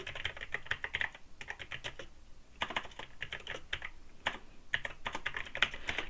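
Rapid clattering keystrokes on a computer keyboard, close and fairly loud, typed in bursts with brief pauses between them and no talking.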